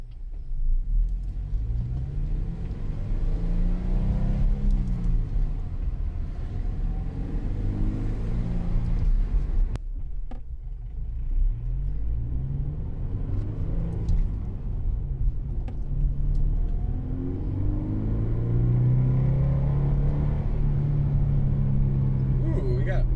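A Toyota GT86 fitted with a TRD sound changer drones steadily while driving, its engine note rising and falling through gears over a constant road rumble, with a voice talking over it at times.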